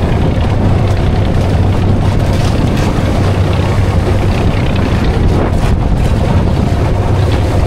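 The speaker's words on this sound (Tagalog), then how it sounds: "lalo pong lumalakas yung amihan, lumalaki lalo yung alon" Strong, steady northeast monsoon wind roars over the microphone at sea off an island, with constant rumbling noise of large waves, a continuous loud wash with no pauses.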